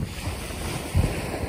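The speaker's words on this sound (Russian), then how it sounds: "сегодня небольшая волна, но чистейшая водичка" Small Black Sea waves wash steadily against the shore with a brief swell of surf, alongside wind noise.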